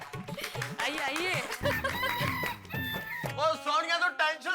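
A man in a Hindi comedy scene vocally imitates a rooster crowing, the drawn-out, warbling cry rising and falling close up, mixed with laughter and chatter from others around him.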